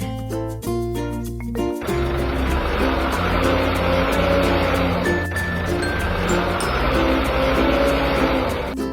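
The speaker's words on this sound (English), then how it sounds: "Forklift truck." A forklift truck engine in a video game starts after a few tonal game notes, then a loud continuous engine roar holds steady and close to the end, with no talking.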